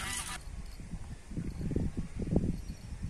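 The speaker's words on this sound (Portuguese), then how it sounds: "Os patos vêm tudo comer, ó." Ducks on a farm fishing pond honk and quack in a noisy cluster while eating fish feed thrown into the water, steady outdoor chatter of calls at close to mid distance.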